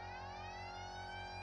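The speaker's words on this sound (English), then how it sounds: "What's the siren key?" A police car siren in the driving game BeamNG wails continuously and loudly, its rising tone sweeping steadily with a steady engine-like drone beneath, no voices over it.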